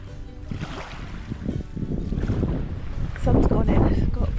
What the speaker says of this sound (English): it's a bit breezy down here on the seafront